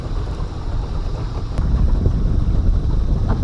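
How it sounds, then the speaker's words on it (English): A small boat's outboard motor putts slowly through shallow water while crabbing, a steady low drone mixed with wind buffeting, growing slightly louder partway through. "Just slowly motoring up to them."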